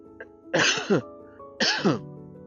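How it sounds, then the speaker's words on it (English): Two sharp, harsh coughs burst out close by, about a second apart, each followed by a brief rasping tail, with near silence around them. "Just got a cough now."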